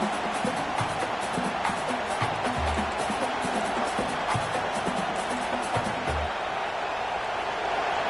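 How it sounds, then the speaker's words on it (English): Stadium crowd roaring steadily in College Football 26, a dense wash of noise with scattered cheers rising throughout, heard alone. "It's early, but this crowd is fired up. Listen to this noise here."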